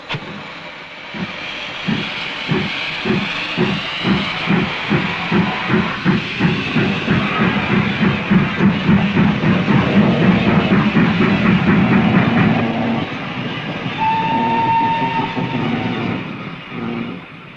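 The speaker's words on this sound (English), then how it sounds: "which would permit the King to remain a living steam locomotive" King George V steam locomotive under steam on about 1.5 miles of siding, chuffing in a steady rapid exhaust beat with hiss, fairly loud and close, followed by a brief whistle toot near the end.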